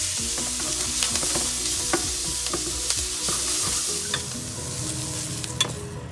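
Pineapple pieces fry in a pan for teriyaki chicken tacos, cooking until browned: a close, steady sizzle runs throughout, broken by frequent clinks and scrapes of stirring.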